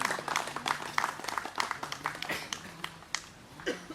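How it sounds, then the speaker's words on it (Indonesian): Audience applause at a performance and discussion event, a moderate patter of scattered clapping with distinct individual claps, fairly distant and soft, without speech on top. "berikan sekali lagi tepuk tangan yang meriah untuk Jam Malam Yogyakarta"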